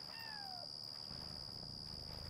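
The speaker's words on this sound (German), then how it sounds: "Oder miaute etwas." A cat meows once in the video game Yonder: The Cloud Catcher Chronicles, a short falling call heard faintly over a constant high tone and quiet game ambience.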